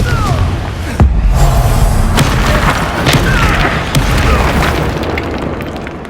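A booming fiery blast from the Confringo spell in Hogwarts Legacy opens with a sharp burst, followed by rumbling impacts and crackling debris over dense game combat noise, loud and close.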